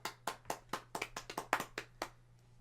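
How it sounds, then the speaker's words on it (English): Two podcast hosts clap briefly, a short run of about a dozen sharp, close hand claps over a steady low hum, with no talking. "Round of applause."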